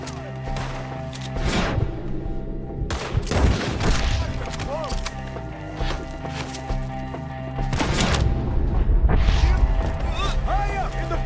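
Gunfire during a shootout in Red Dead Redemption 2, with loud scattered shots and booming blasts in irregular bursts, while people shout over the fighting.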